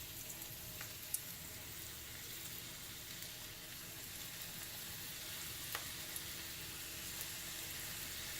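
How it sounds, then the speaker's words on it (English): Breaded butterfly shrimp fry in oil over medium-low heat, giving a steady soft sizzle with a few faint pops and clicks, fairly quiet and continuous, no talk. "My oil is ready, and I'm gonna start frying my shrimp."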